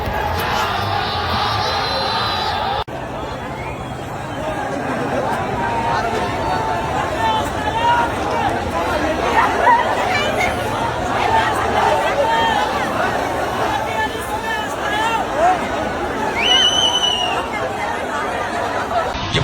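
Large outdoor crowd at Balen Shah's election campaign rally in Nepal, a dense roar of chatter and shouting voices that holds steady and loud throughout, with occasional louder cries rising above the babble.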